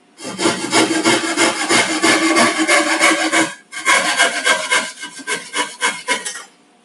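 A pull saw cuts through construction-grade knotty pine in rapid, steady rasping strokes, loud and close, with a brief pause midway before the sawing resumes and trails off.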